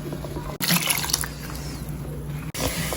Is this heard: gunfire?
no